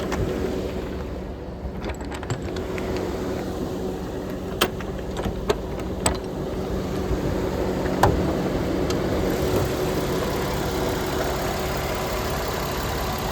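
A Jeep Wrangler Unlimited Sahara's 3.8-liter engine idles with the hood open, a steady low rumble heard up close, broken by a few faint clicks and taps and no speech.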